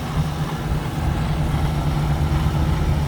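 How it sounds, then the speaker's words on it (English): A small utility tractor of the 500 or 550 type rolls past in a summer show parade, its low engine drone steady and fairly close, with no talk over it. "Another tractor from the same family. This is a little utility again."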